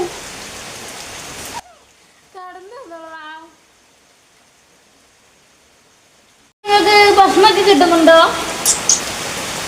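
Heavy monsoon rain hisses down steadily and close in Malappuram, loud and dense, breaking off into a quiet stretch with a voice before the downpour returns full force alongside talking.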